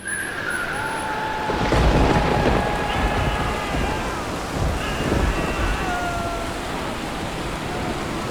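Stormy wind and rain on the open ocean, roaring broadband with low rumbling swells that rise and fall like distant thunder, steady and fairly loud throughout.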